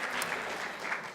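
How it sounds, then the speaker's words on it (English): Short burst of audience applause at a university science talk, steady dense clapping throughout. "So how about you give yourselves a round of applause for getting up early?"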